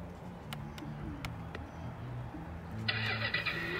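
Ride-on toy truck, a Jeep-style kids' vehicle with remote control, plays an electronic engine-start sound: a bright buzzing burst that kicks in near the end over low background hum and a few faint clicks.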